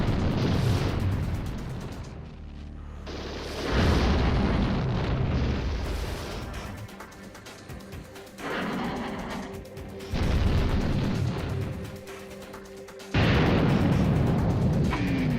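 A communications outpost blowing up in a shooter game: several heavy, rumbling explosions in separate waves, each a loud booming burst that decays before the next detonation hits.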